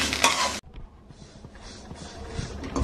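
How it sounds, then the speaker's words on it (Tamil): Garlic and roasted chilies frying in a pan while being stirred: a loud burst of sizzle cuts off abruptly, then softer frying continues with scattered scraping and clinks of a spoon. "எல்லாத்தையும் போட்டுட்டு அதுக்கப்புறமேட்டு நல்லா கலந்து விட்டு வறுத்துக்கோங்க"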